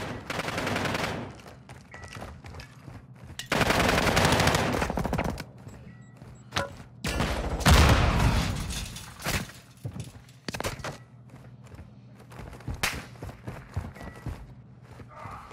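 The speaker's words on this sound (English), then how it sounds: "Drei Headshots mit Shotgun, Digga." Shotgun blasts in the shooter game Call of Duty DMZ fire in sharp, loud bursts, several clustered volleys spaced between quieter stretches with faint clatter and footsteps.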